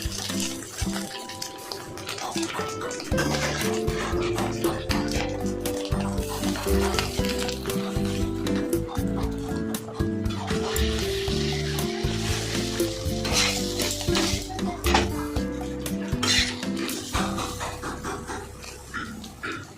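Egg roll filling tossed into a hot kitchen wok, loud continuous sizzling and frying with scraping, clattering stir strokes throughout.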